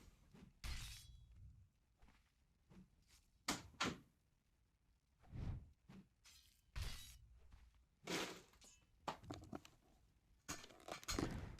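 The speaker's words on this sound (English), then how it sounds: "I'm gonna shut my door really quick." A door in a home being pushed shut, with a series of sharp knocks and bangs spread across several seconds, some loud and close, separated by quieter stretches of room noise.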